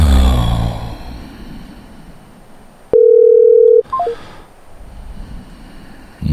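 A telephone handset in use: a brief muffled bump, then a loud steady dial tone held for about a second, followed by a quick run of touch-tone dialing beeps and faint line noise.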